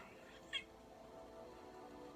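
A Loth cat from the Star Wars series Ahsoka lets out a single short, faint meow over a quiet, low background hum.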